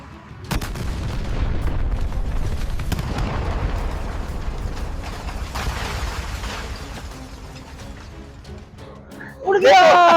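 A hotel being blown up, heard as a rumbling explosive blast with a sustained roar and a sharp burst near the end, amid a dramatic soundtrack.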